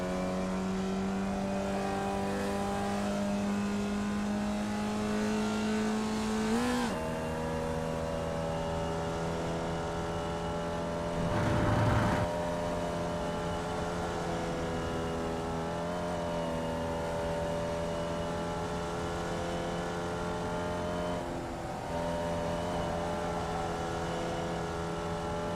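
A formula race car engine in the iRacing simulator drones at a steady high pitch, shifting gear with brief dips in tone, loud and close throughout with no talking.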